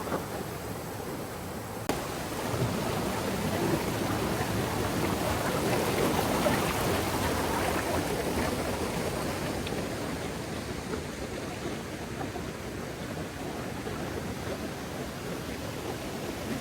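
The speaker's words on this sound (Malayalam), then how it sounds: "നമ്മൾ വെള്ളച്ചാട്ടത്തിൽ എത്തി" Waterfall and stream water pouring at a hidden waterfall in Nilambur: a steady, dense roar of rushing water that holds at an even level throughout, with no voices.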